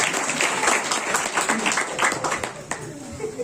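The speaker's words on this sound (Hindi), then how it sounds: "आइए इनकी हिम्मत अफजाई के लिए और खुदा की महिमा के लिए जोरदार तालियां" Sustained clapping from a prayer-hall audience runs throughout, moderately loud and steady, with some crowd voices underneath.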